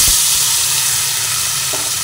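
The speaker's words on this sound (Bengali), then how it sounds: "ক্যাপসিকামগুলো দিয়ে ভেজে নিই।" Capsicum fries in hot oil for a chilli bhetki fish dish. The loud, steady sizzle hisses close up without a break, with a faint stir at the start.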